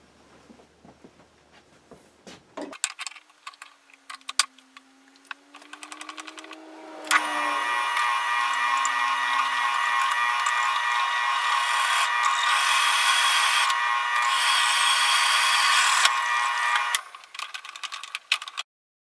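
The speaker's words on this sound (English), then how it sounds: "the first thing I need to do is to drill a hole in it" After some handling and clinking, a power drill whirs steadily for about ten seconds as it bores a hole into an iron pipe cap, then stops, followed by light tool noises.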